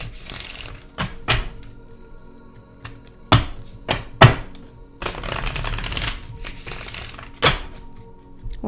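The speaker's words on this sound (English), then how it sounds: "One more good shuffle, please, Divine." Tarot cards being shuffled by hand in a series of sharp, clustered bursts of riffling and slapping, with quiet gaps between them and fairly close, fairly loud.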